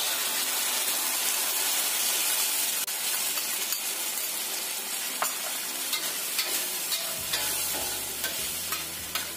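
A spice sauce is stirred into a hot frying pan of crab, giving a steady bright sizzle and frying hiss with scraping stirring noises and a few utensil clicks near the end.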